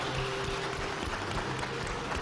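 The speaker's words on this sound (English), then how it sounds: "the crowd stood and gave him a standing ovation" Audience applause as a crowd rises in a standing ovation for a broadcaster honored at an award ceremony, steady dense clapping filling the room throughout.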